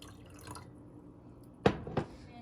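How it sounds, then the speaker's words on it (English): Coffee splashes into a drink in two brief close pours, quick liquid bursts over a quiet room background. "I'm gonna add a splash of coffee"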